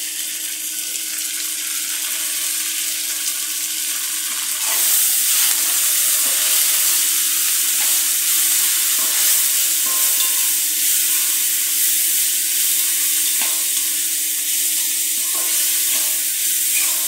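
Washed dried fish (shutki) frying in oil in a pan, a dense continuous sizzle that swells louder partway through, with faint stirring taps and scrapes, close up and without speech.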